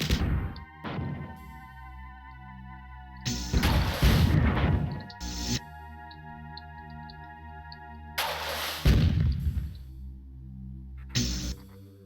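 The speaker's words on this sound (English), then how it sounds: "The rockets just don't seem to really do enough damage, interestingly." Rocket launcher explosions in the video game Marathon: several loud, booming blasts spaced a few seconds apart, each with a sharp crash and ringing tail, over a steady electronic hum.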